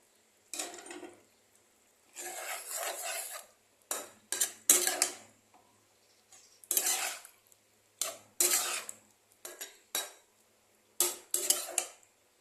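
Cauliflower florets going into a pot of potato curry, heard as about a dozen sharp bursts of spoon clanking and scraping against the metal pot, separated by short silences, with no talk.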